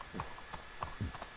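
Horse hooves clip-clop in Red Dead Redemption 2, a steady walking rhythm of several close, moderately loud hoof strikes on a street with no talk over them.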